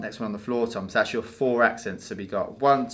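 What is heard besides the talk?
No everyday noise stands out behind the speech.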